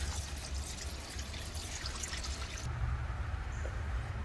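Engine oil drains from the drain bolt of a BMW X5 in a steady, soft pour, trickling on without a break at close range.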